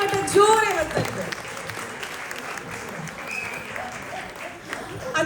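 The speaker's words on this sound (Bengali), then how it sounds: "ডান্সারদের জন্য একটা হাততালি হোক, আর সিঙ্গারদের জন্য একটা জোরে হাততালি হোক।" An audience applauding for dancers and singers at a stage event, a brief burst of clapping while a voice speaks over it, fading to quieter crowd noise.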